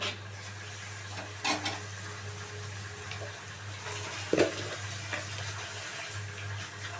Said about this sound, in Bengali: সেদ্ধ করা আলু একটুখানি সামান্য তেলের মধ্যে আলুগুলোকে আমি নেড়ে নেব